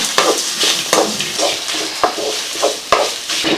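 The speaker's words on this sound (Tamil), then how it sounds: "தேங்காய் போட்டு கைவிடாமல் கலக்கிட்டுக்கோணுங்க அடுப்பில் சிம்மில் வச்சுட்டு" Grated coconut is stirred and fried in a pan over a low flame for Chettinad egg gravy, giving a steady close sizzle with repeated scraping strokes of a spoon against the pan.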